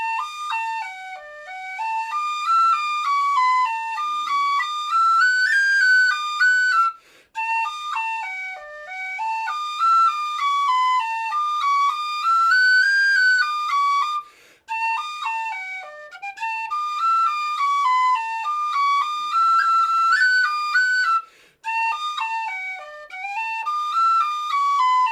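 Tin whistle plays the Irish tune Father O'Flynn, also known as Top of the Cork Road, alone and close, a bright, steady melody with quick ornamented runs, phrases repeating with brief breaths between.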